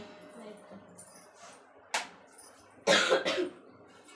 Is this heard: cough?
yes